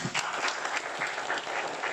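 A seated crowd at a Dragon Boat Festival race event gives steady, dense applause of many hands clapping together, close and continuous.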